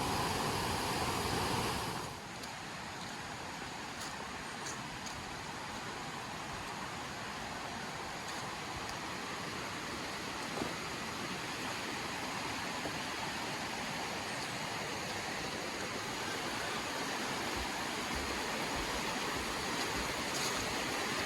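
Rushing water from a river and its falls in Connecticut along a hiking trail, a broad steady roar that stays constant and fairly distant throughout, with no voices.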